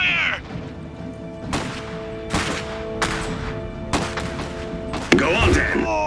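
Gunfire in the real-time strategy game Iron Harvest: several sharp shots burst out at irregular intervals over a steady mechanical hum and game ambience, with a louder, closer crack near the end.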